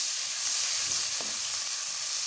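Green chilies frying in hot oil with onion in a pan, a dense continuous hissing sizzle, loud and close, with a faint stir near the middle and no talk.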